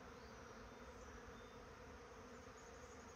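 Bees or wasps swarm around farm stalls beside a hiking trail, giving a faint, steady, even drone with no voices over it.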